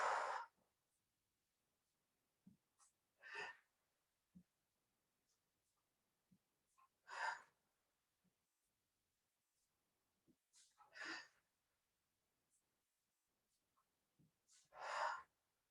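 A person exercising breathes out in short, forceful bursts, about five clear exhales spaced a few seconds apart, with soft rustles and quiet gaps between them, close to the microphone.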